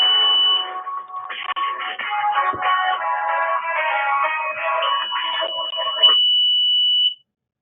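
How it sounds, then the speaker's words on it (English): An Alertus desktop emergency notification alert sounds, a loud electronic warbling tone pattern running for about six seconds, ending with a sustained high beep before cutting to silence. "So that's the desktop notification."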